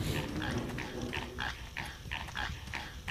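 Repeated pig grunts and snorts in the video game Evil Dead: Hail to the King, in a steady rhythm over a busy background, several animals close by, no talking.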